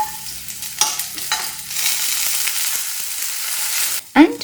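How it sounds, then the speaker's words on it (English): Mustard seeds, green chilies, garlic cloves and curry leaves fry in a tablespoon of hot oil, giving a close, steady sizzle with stirring clinks early on and a scrape near the end, without speech. "Now to make the palya, I have a tablespoon of oil, mustard seeds, 3 green chilies, 5 garlic cloves, curry leaves"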